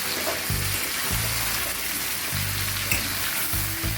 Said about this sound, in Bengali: এই মাংসগুলো খুব ভালোভাবে নেড়ে চেড়ে ভাজতে হবে